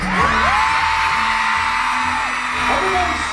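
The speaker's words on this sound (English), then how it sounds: "Can I get a scream on the back?" A packed arena crowd at a concert in Dubai screams in a sustained, loud, high-pitched roar, with a performer's amplified voice over the top and a brief swell near the end.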